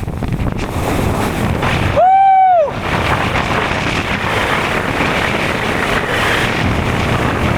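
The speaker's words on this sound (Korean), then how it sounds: "와, 여기 바람 장난 아니다" Strong coastal wind roars steadily and loudly across the microphone, a dense continuous rush with a brief shouted exclamation partway through.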